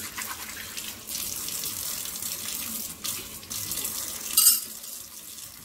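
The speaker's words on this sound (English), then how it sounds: "I'm just gonna rinse it off." Tap water runs steadily over a plant pot being rinsed, a close, moderate splashing rush with a couple of short dips and a brief clatter near the end.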